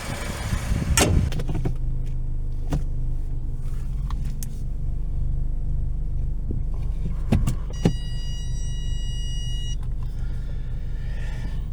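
A Mercedes-Benz car engine cranks and starts, then settles into a steady, throbbing idle close by, with a few clicks and a brief electronic chime.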